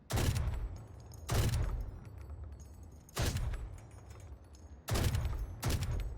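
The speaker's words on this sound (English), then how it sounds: "The 100-round Odin is what we're looking at now." The 100-round Odin machine gun from the tactical shooter Valorant fires in five short, loud bursts at an even pace, each a hard crackle with a ringing tail, separated by brief quiet gaps.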